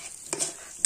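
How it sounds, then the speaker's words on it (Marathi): Pasta tipped into a pan of masala and stirred in a home kitchen shared by roommates, giving a short soft sizzle with two quick scraping strokes of the spoon. "आता पास्ता टाकतो याच्यात"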